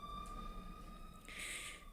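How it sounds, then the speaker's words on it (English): An ambulance siren passes by downtown, faint and distant, its wailing tones rising briefly in the second half over a low, steady urban rumble. "I was just going to let that ambulance go by"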